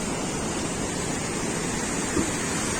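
Rushing mountain waterfall water near the Mandakini river at Sonprayag on the Kedarnath route, with heavy overnight rain, gives a steady, loud, broadband roar that stays constant throughout with no voices.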